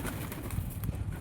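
Pigeons coo briefly in a loft, giving soft, low, throaty burbling notes close by with no voices.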